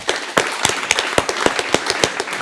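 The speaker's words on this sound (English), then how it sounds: "Give him a round of applause." Sparse, irregular claps from a small live audience at a 100th-episode stage event, sharp and fairly close, with no steady roar of a large crowd.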